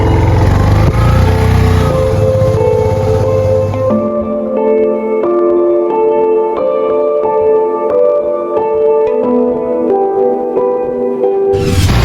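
A vehicle engine runs loud and revving, then cuts off abruptly, leaving a quieter idle-like hum with tonal ringing before a sudden burst at the end.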